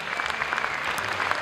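Audience applause fills a hall at the Ninahar cultural organization's 15th anniversary concert, dense and steady throughout the brief moment, heard at moderate distance.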